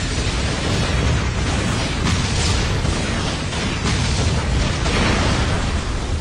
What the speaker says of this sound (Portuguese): Envolto por centenas de papéis-bomba, teve seu corpo explodido com o isqueiro que foi de Asuma.